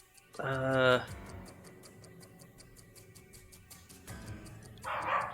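Dogs bark in the house, two short barking bursts a few seconds apart, moderately close, with a steady ticking and faint background murmur running underneath.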